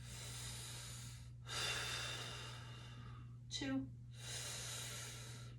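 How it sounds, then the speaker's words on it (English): Deep breaths during an exercise class: long, airy inhales and exhales at a slow pace, with a steady low hum behind them and a brief spoken count. "And we're going to breathe 6 times."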